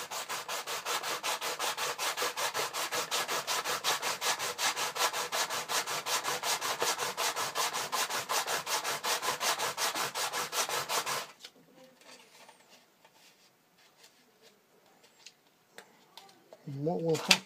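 Hand sanding of Speedline Bluebird K7 model parts on a tabletop, a steady loud rapid back-and-forth rubbing for about eleven seconds, then it stops and quieter handling sounds and a brief voice follow.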